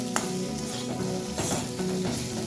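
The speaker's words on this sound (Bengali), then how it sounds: "সবটাকে খুব ভালোভাবে মিশিয়ে নিলাম।" Chili fish made from catla being stirred in sauce in a pan: steady close sizzling with scraping stir strokes and soft clinks, loud and continuous without talk.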